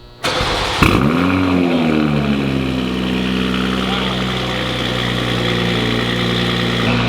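BMW M340i fitted with a VRSF high-flow-cat downpipe starts with a sharp crank and loud flare, then settles into a deep, rumbling idle that holds steady and close, loud and continuous to the end.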